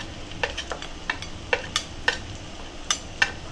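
Turmeric and fresh curry leaves sautéing in hot oil for a Kerala-style bangada mackerel curry: a steady low sizzle with sharp spatula clicks and scrapes against the pan at irregular intervals.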